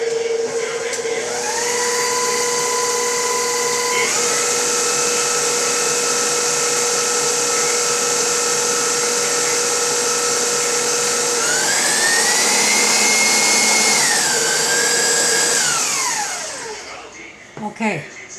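An electric mixer with whisk beaters runs through banana bread batter, whirring loudly and steadily with a few shifts in speed before spinning down near the end.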